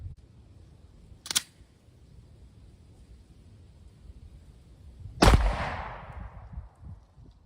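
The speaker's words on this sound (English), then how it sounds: "5 rounds of Federal HST 124 grain plus P 9mm from a" Two sharp, loud reports from a Taurus GX4 9mm pistol with a 3-inch barrel, firing Federal HST 124 grain +P rounds outdoors, spaced about four seconds apart, the second ringing out with a longer decay.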